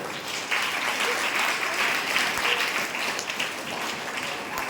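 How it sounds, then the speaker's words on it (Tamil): Children applaud in welcome at a young scientists' event, a steady mass of clapping from many small hands, fairly loud and continuous with slight swells. "உங்களுக்கு கரவொலி உண்டு, கைதட்டுங்க"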